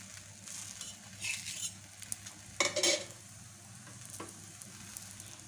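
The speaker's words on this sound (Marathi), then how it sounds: "मीडियम फ्लेमवर छान असं हळूहळू तुमचा थालीपीठ जो आहे छान भाजून घ्या" Methi thalipeeth flatbread roasting on a pan over a medium flame sizzles softly and steadily, with a few brighter bursts of crackle and some faint utensil scraping, and no voices.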